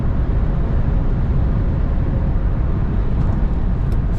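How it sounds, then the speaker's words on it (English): A 1995 Chevrolet Camaro Z28 convertible with its factory exhaust cruises along, a steady deep low rumble with road and wind noise heard from inside the car, loud and even throughout. "Great factory exhaust sound from this car."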